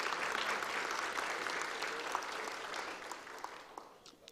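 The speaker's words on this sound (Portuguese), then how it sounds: "peço uma salva de palmas às mulheres presentes" Applause from an audience at a legislative assembly ceremony, a soft and fairly distant patter of many hands that gradually thins out toward the end.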